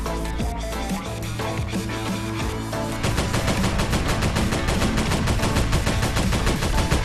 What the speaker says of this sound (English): if I can fire some shots at these guys